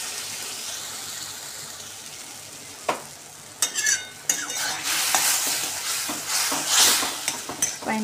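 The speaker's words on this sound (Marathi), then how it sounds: "आता आपण हा रवा भाजून झाल्यानंतर याच्यामध्ये पाणी घालून वाफ काढून घेणार आहे याला" Water hits hot roasted semolina in a pan for pineapple sheera, bursting into a loud hiss and sizzle, followed by repeated scraping and stirring with a metal spoon, close up.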